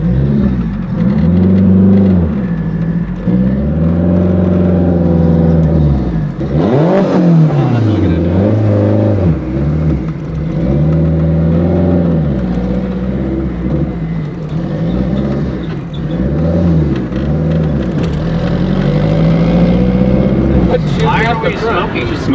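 A 700hp big-turbo Honda Civic EG running on race fuel in 100-degree heat cruises through traffic. Its loud engine drone rises and falls repeatedly as the revs climb and drop.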